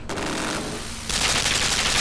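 Rapid gunfire from the video game Limbo, a dense, continuous burst of shots that grows louder and harsher partway through, heard alone without talk.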